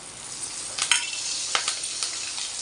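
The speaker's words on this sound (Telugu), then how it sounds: "కరివేపాకు వేసేస్తున్నాం" Curry leaves hit hot tempering oil for a festive dish, giving a soft continuous sizzle punctuated by a few sharp crackling bursts, close and unaccompanied by talk.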